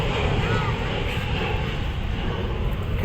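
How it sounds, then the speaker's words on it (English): An airliner comes in at Manchester Airport with a loud, broad, continuous jet roar and rumble that stays steady through the whole clip. "there's another plane coming in now"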